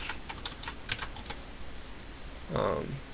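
Computer keyboard typing with quick light key clicks in a short burst, fairly faint and close, followed by a brief voice at the end.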